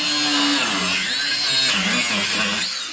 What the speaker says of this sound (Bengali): একটি ড্রিল বা কাটার দিয়ে কাটার চেষ্টা করছে সেটিকে।